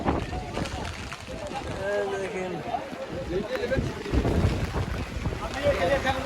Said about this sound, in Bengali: বাতাস বেড়ে গেল আবার